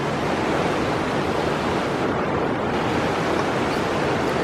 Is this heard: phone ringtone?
no